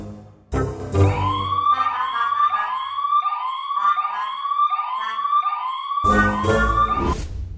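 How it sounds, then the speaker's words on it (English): A security alarm siren tied to a beam-break sensor wails loudly in repeated rising-and-falling sweeps for several seconds, bracketed by brief bursts of louder broadband noise at the start and end. "If anything breaks the beam, the siren will go off."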